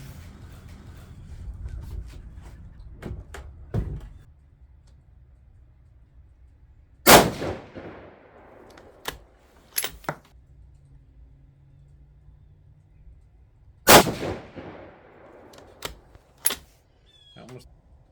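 Rifle shots from a 6.5 Creedmoor firing 130-grain ELD-M loads on a calm, cold sunny day: a few loud, sharp reports spaced several seconds apart, with fainter clanks and quiet handling noises between them.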